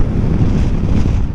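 Strong wind buffets the microphone on top of Rootham Hill, a loud, rumbling, gusting roar that fills the short moment without any voices.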